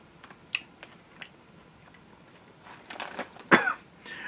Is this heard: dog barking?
no